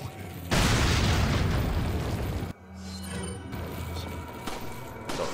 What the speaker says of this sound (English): I'll just use a nade here.